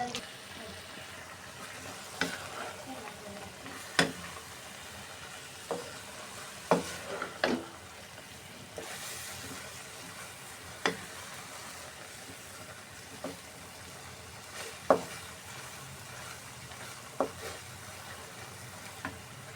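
Mutton mince with onion and garlic fries in a pot, a faint continuous sizzle broken by scattered sharp clicks and spoon scrapes, quiet and close with no talking.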